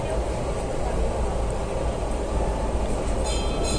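Continuous loud rumble and rattling of a train pulling into Malout station on the Jind to Abohar route, steady and close throughout, with a faint whine rising near the end.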